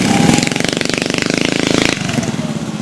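A small Rupp mini bike engine racing close by, a loud buzzing rattle with a fast pulsing beat that holds steady and then shifts pitch slightly as it runs on.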